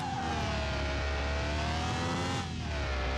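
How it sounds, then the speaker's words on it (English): A non-turbo Toyota Supra with a 2JZ engine revs steadily in Car Mechanic Simulator 2021, a loud continuous droning engine tone that holds nearly level with a brief dip near the end, alone with no talk. "Now remember, this is the non-turbo Supra. Little 2JZ just a kicking."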